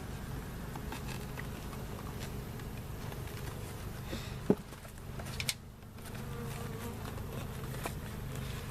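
Steady droning buzz of many honey bees around a hive box, continuous and close, with a brief click and a short dip in the hum midway.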